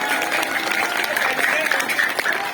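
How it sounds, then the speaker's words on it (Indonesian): An audience at a Maulid Nabi school event applauds a student's third-place award, with brief steady clapping under a voice on a loudspeaker. "Tepuk tangan untuk Jawaro."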